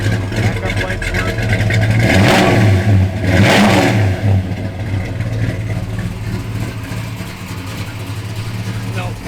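A 1970 Plymouth Road Runner's engine revs up hard twice in quick succession, loud and close, then settles back to a rough idle while people talk nearby.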